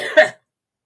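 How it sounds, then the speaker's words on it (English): A single short, sharp cough from one person, close and dry, over in well under half a second and followed by silence. "So when I do cough and stuff like this"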